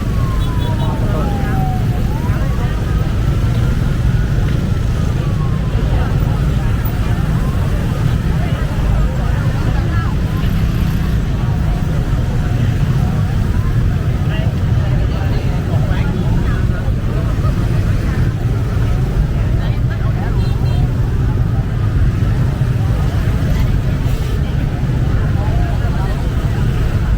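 Dense motorbike traffic crowds a bridge in Ho Chi Minh City on New Year's Eve, a continuous engine roar and horn blasts under steady crowd chatter and voices.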